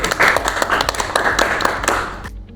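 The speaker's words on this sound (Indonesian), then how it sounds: "tepuk tangan dulu untuk Eni" In a classroom, students clap their hands for a classmate, a lively burst of quick overlapping claps that stays strong before cutting off abruptly near the end.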